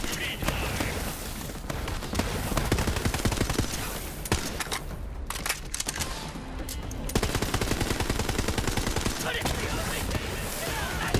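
A homing gun in Borderlands 3 fires rapid, continuous automatic bursts, loud and close, with a short lull midway before the rattling shots resume amid game combat noise.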